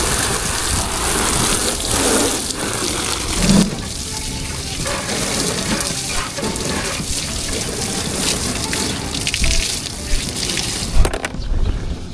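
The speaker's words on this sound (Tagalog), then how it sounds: "Ngayon naman po ay mag motor wash tayo." Water sprays steadily onto a motorcycle during washing, a dense continuous hiss with small fluctuations and a few brief knocks, loud and close throughout.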